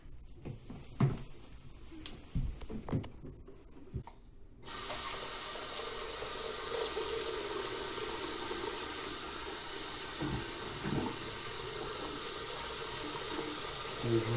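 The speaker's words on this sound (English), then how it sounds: "Turn that water on." A few clanks and knocks, then a Moen faucet with a newly changed cartridge turns on and water runs in a steady, loud hissing stream into a sink.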